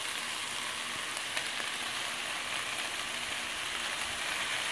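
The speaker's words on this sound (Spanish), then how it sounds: "Y voy a seguir revolviendo y voy a esperar aproximadamente otros 3 minutos para que se ablande un poco la calabacita" Chicken and zucchini with soy sauce frying in a pan, Chinese style, give a steady close sizzle with soft scraping as they are stirred, continuous and fairly loud with no voices.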